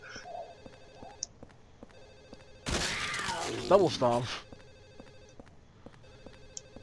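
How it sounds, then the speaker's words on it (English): A telephone rings repeatedly in Silent Hill 4: The Room, an insistent electronic ring pattern looping in the background while a burst of loud game action and a voice interrupt midway. "Phone ain't gonna stop till I can find where the phone is."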